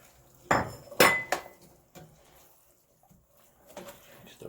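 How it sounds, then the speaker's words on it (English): Chickpeas tossed into a pot of Thai vegan curry, giving a few sharp clattering impacts close by, followed by quieter scraping and clinks. "So go ahead and throw my chickpeas in there."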